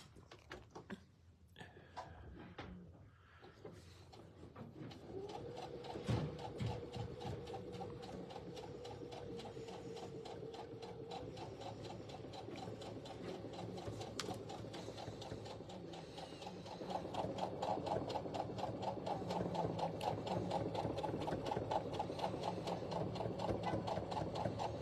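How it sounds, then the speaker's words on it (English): Sewing machine stitching in the ditch while quilting a wall hanging, a steady fast mechanical whirring with rapid needle clatter that runs continuously and grows louder near the end, close up, with faint talk. "So I am just going to stitch in the ditch between the 4 blocks."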